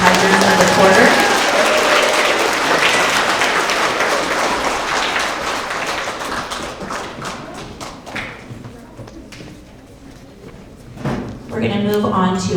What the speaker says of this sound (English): Let's have a round of applause for all of our 4th and 5th grade Tigers of the quarter